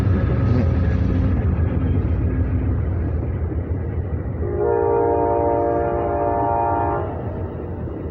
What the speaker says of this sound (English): that damn train